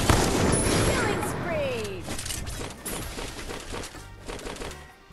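Gunfire from the video game Free Fire crackles in rapid bursts and scattered shots over busy game effects, loud and close, with a person talking over the action.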